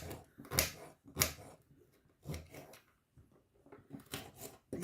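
A knife cutting hard meadowsweet roots into smaller pieces, giving a few crisp, close chopping and scraping strokes spaced irregularly in a quiet setting.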